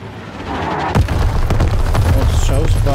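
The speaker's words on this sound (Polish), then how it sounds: "Tu jakieś wybuchy, Jezu, nasz poleciał!" Explosions in the World War II shooter game Call of Duty: WWII, a sudden heavy boom followed by rumbling blasts and scattered gunfire, loud and close, with game battle noise continuing throughout.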